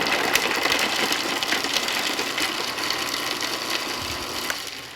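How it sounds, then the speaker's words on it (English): A food processor runs steadily with a whirring motor, chopping a handful of garlic cloves for homemade pesto; the buzzing is close and continuous for the whole stretch, with faint rattling and no talking. "and turn on my food processor."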